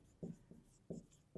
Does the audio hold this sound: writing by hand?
yes